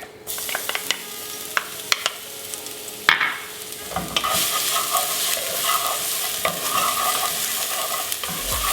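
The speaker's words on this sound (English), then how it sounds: "And we're gonna stir this until it's a little bit golden brown before we add our beef." Minced garlic fries in a generous amount of hot oil, first quiet spatula taps and clicks, then a loud, dense sizzle swelling as it is stirred, with no talking.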